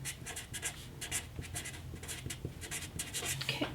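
A marker or pencil scratches across fabric while a waistband pattern is marked, faint close strokes in a quick, uneven rhythm of short scribbles.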